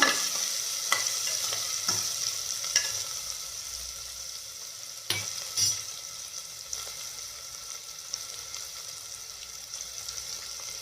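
Onions frying in a pan for a simple chicken biryani crackle with a steady sizzle while a utensil stirs and scrapes at irregular intervals, close and without voices.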